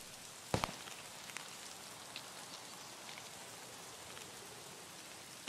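Rain in the Escape from Tarkov shooter game: a steady, soft hiss of falling rain with scattered droplet patter and a few sharp clicks, heard alone without talk.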